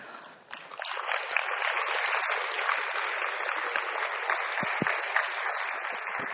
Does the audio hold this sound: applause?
yes